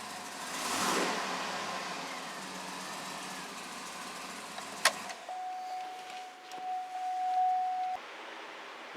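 A 2008 Cadillac Escalade engine, running rough after a rebuild with high crankcase pressure, idles steadily and then takes a light blip of throttle, followed by a short sustained tone from the running engine, with no talking.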